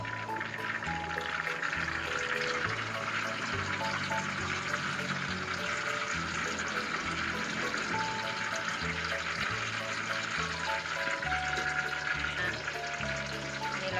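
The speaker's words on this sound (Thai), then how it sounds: "เคี่ยวในตัวซอสสักพักหนึ่ง ค่อยปิดไฟ" Egg sauce for Thai son-in-law eggs simmers and sizzles in a pan over low heat, a steady bubbling hiss that holds evenly throughout, close and moderately loud with no talking.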